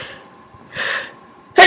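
A person sneezes after tickling the inside of the nose with a cotton swab: a close, breathy intake swells, then a sharp, loud sneeze bursts out at the very end.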